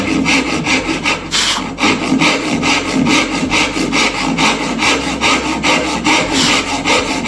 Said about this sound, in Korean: 요 두 선을 양쪽 끝점을 향해서 연결이 되도록 톱질을 해주면 된다